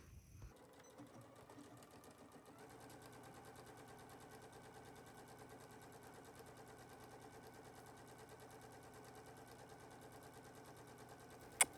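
A sewing machine stitches a 5/8 seam allowance along a curved edge of fabric, a faint, steady mechanical whirr that runs without a break to a single sharp click at the end.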